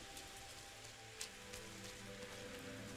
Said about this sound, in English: I think if the kid wants anything at the moment, it's to get out of the rain.